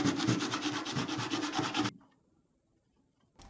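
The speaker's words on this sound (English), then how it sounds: "we will need to sand down the area behind the old hinge hardware" Rapid back-and-forth sanding strokes scrub a rusty vintage metal toolbox behind its old hinge hardware, a close rhythmic rasp for about two seconds before near silence.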